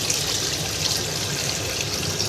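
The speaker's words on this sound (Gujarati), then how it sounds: "જા સરસ પાણીમાં આપણે ધોઈ દેવાનું." Water runs steadily from a tap in a flat during washing, a continuous, fairly close hissing gush with no breaks.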